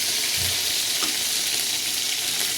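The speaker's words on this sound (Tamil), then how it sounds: "கடுகு பொரிஞ்சிச்சு." Mustard seeds and curry leaves sizzle loudly in hot oil in a kadai, a dense steady hiss with a few faint pops, close and continuous with no voices.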